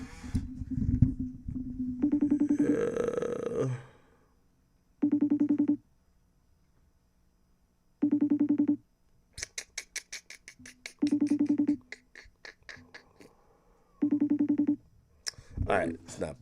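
A phone call rings out unanswered, with repeated ringback tones in regular bursts separated by silent gaps. Someone talks over the first ring, and a short burst of dial tones comes partway through.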